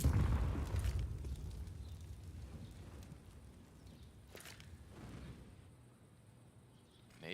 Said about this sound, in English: Nade around the corner, then nothing.